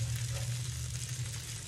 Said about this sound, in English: pancake's still cooking over there